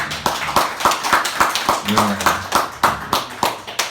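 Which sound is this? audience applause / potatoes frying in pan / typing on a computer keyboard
audience applause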